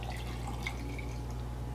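Brine poured over green tomatoes and onions in a jar, heard as a faint, steady liquid trickle with light dripping over a constant low hum.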